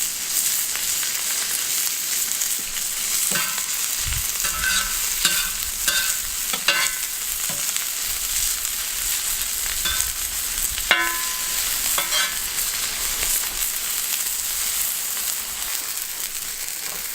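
A burger patty fries in a pan, giving a steady loud sizzle with scattered scraping and stirring clicks from a utensil, no voices.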